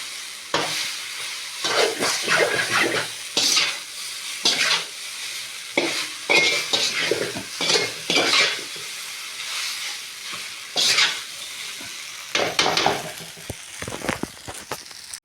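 Noodles stirred in a frying pan, with a continuous sizzle and repeated scraping strokes of a spatula coming in uneven bursts, close and fairly loud, no talking.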